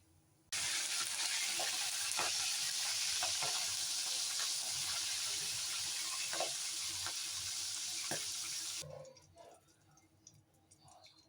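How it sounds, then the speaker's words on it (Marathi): Green chilies frying in hot oil, a loud, dense close sizzle that starts abruptly, holds steady for several seconds with small pops, then cuts off into quiet kitchen sounds. "हे बघा, असे छानपैकी मिरच्या पण तळून घ्यायच्या"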